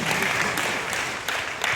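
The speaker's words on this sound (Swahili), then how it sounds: "Makofi kwangu" An audience at an investment fund event claps together in a short burst of steady applause, fairly close and filling the whole moment.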